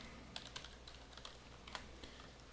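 Faint, steady tapping on a computer keyboard while entering a spreadsheet formula, with light individual key clicks scattered over a constant background hiss and no voices.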